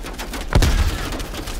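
A single heavy shotgun blast booms in the Call of Duty: Cold War campaign, a sharp loud report with a low rumbling tail, followed by faint background game noise.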